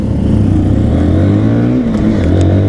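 A Modenas Z15GT motorcycle engine revs hard and loud close by, its pitch climbing steadily as it accelerates, a continuous throaty drone with no talk.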